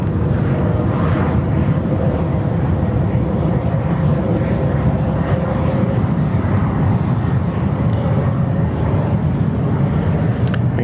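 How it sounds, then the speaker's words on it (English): A China Southern airliner taxis out for departure at Sydney Airport, its engines a loud, steady, continuous rumble and whine heard from nearby, with wind buffeting the microphone and no talking. "China Southern taxiing out for departure"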